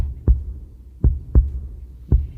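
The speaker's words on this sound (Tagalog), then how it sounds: "ang tibok ng puso ko para naman akong aatakihin sa'yo" Heartbeat sound effect with four strong low thumps in an uneven double rhythm, close and loud over a faint low hum, with no talk.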